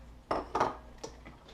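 Potatoes and carrots dropping into a pot of simmering homemade beef stew, giving three or four close, hollow clunks and knocks against the pot, then a quiet tail.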